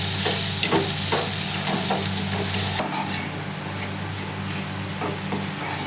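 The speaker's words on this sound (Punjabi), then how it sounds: "ਹੁਣ ਆਪਾਂ ਸਾਰੀਆਂ ਚੀਜ਼ਾਂ ਨੂੰ ਚੰਗੀ ਤਰ੍ਹਾਂ ਮਿਲਾ ਦਾਂਗੇ" Okra curry with coriander powder being stirred in a pan over low gas, giving a steady close sizzle with repeated scraping strokes of a ladle, with no voices.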